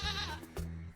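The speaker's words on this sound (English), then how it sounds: "Goat." A goat on a farm bleats twice at close range, each call a wavering, nasal cry with a short gap between them.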